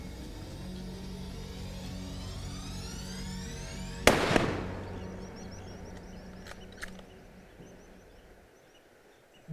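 A single Remington rifle shot fired with Hornady ammunition, one sharp loud crack with a short echoing tail outdoors, followed by faint distant knocks and quiet background.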